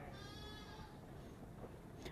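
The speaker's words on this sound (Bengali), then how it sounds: "মিনি চিড়িয়াখানায় গরু ছাগল সবই আছে" Goats bleating at Savar mini zoo, one wavering bleat near the start, very faint behind broad background noise.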